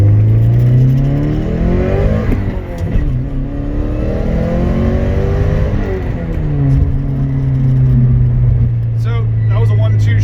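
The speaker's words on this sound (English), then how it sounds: "that was a 1-2 shift, and then up into third" 1989 Porsche 944 Turbo accelerates hard through a 1-2 shift and up into third, its engine note climbing and dropping at each gear change. Heard from inside the car, loud and steady.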